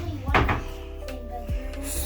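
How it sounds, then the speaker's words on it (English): In a hotel room kitchen, a dishwasher door opens with a couple of soft thunks and a latch click, heard up close amid faint room noise. "Dishwasher."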